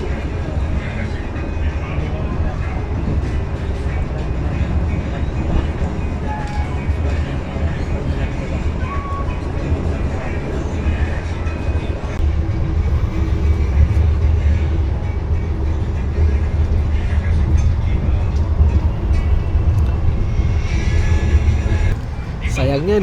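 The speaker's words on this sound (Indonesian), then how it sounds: "ternyata kita bersilang dengan kereta api" A train rumbles past close by for a long stretch at Ngebruk station, a steady heavy rolling roar with rattling, while people talk underneath.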